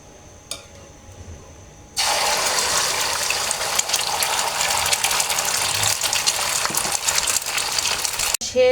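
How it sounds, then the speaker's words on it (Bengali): An egg for an omelette drops into hot oil in a home kitchen pan, and after a short, quiet lead-in a loud, steady sizzle erupts and hisses on until it cuts off abruptly. "তো ভেজে নেব এখন ডিমটা।"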